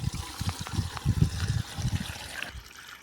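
Water splashes and trickles steadily onto young seedlings in a village field, a close, continuous wet patter with soft irregular splats that thins out near the end.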